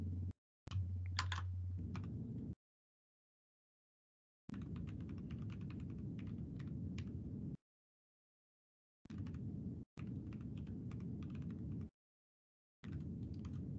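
Computer keyboard typing while code is entered in the R environment, quiet and close, coming in short bursts of rapid clicking separated by gaps of silence.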